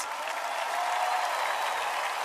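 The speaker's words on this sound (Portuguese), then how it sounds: "Quero uma salva de palmas para os nossos internautas." A large audience at a youth convention breaks into sustained applause, a broad, even roar of many hands clapping with a faint crowd murmur, steady and continuous throughout.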